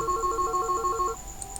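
A phone rings inside a video game during an attempted call to the player's dad, with a steady electronic trill in evenly spaced bursts that stops partway through, followed by faint quiet clicks.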